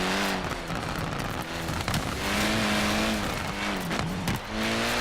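An Abarth 124 rally car in Forza Horizon 4 thrown through tight hairpins, its loud engine note rising and falling as it revs and lifts off, with hints of tire squeal and no talking.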